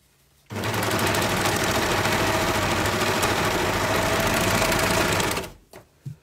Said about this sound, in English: the cuff pieces, I fold in half, right sides together, and sew along the short edge